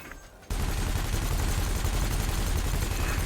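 Ship weapons blaze in space combat in Elite: Dangerous, a cannon and laser firing in a rapid, relentless stream of shots that kicks in suddenly and stays loud and dense throughout.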